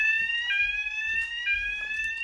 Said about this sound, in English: So, yes, the alarm is going.